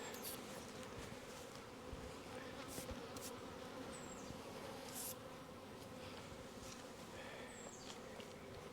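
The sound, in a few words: honey bees buzzing around a honey frame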